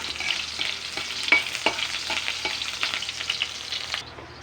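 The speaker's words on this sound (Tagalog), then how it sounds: "Bisa natin ng bawang at sibuyas." Garlic and onion sauté in hot oil for pancit canton, a steady broadband sizzle broken by repeated scraping stirs and a louder clatter around the middle, with no talking.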